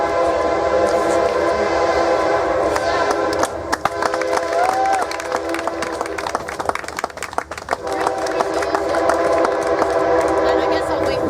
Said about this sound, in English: And I guess I'll wait for the train.